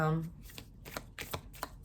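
Tarot cards are shuffled close by in a quick riffle of soft papery flicks and slaps, following a brief tone at the very start.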